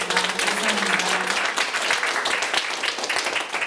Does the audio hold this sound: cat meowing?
no